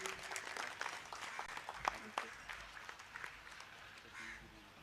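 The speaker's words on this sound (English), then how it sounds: "Can we please have a huge round of applause for our chief guest?" Audience applause for a chief guest at a literature festival, a fairly faint, scattered clatter of clapping with a few sharper claps, crows cawing and a voice speaking alongside.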